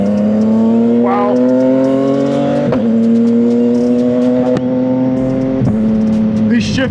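A CFMoto 675SS motorcycle engine revs loudly and steadily, its pitch climbing in long pulls and then dropping sharply at each of several quick gear shifts, close and continuous.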